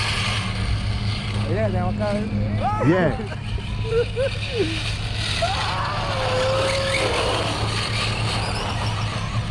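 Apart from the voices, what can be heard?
RC cars drag racing on the street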